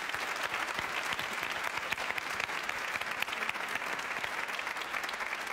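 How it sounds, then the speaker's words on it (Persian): A studio audience on the TV show Mahfel gives loud, sustained applause, a dense steady clatter of many hands clapping for several seconds without letup. "تشویقشون کنین یه بار دیگه انرژی بگیرن."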